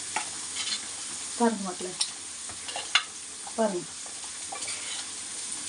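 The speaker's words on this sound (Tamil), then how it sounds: "நல்லா கொதிச்சு மசாலா நல்லா ஃப்ரை பண்ணிட்டா" Masala cooks in hot oil, bubbling and sizzling steadily under bursts of stirring and scraping in the pan. A voice speaks briefly over the frying.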